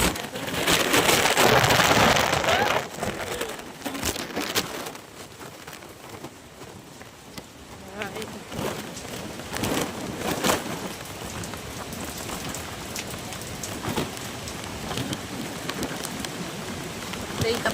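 Heavy rain from Typhoon Uwan pours down steadily outdoors, a dense loud hiss with a harder burst at the start, broken by scattered knocks and bumps and brief voices.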